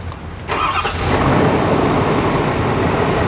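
A 2022 diesel truck engine cranks briefly and catches, then settles into a loud, steady rumbling idle close by, with no talking.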